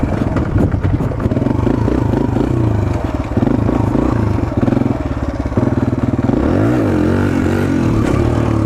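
A Suzuki DR-Z 125L motorcycle engine revs hard during a wheelie, a loud, close, buzzing single-cylinder note that climbs and falls in pitch over several seconds with no voices.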